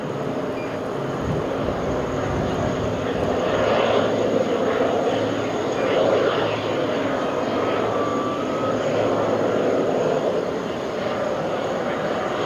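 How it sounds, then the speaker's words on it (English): Jet airliner flying at JFK airport, a broad steady engine roar that swells and fades slightly over time, heard from a distance with faint voices in the background. "Here's a specimen of one of the most beautiful and most efficient planes on the planet Earth."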